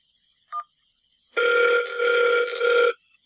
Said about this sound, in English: So you can see my phone's ringing.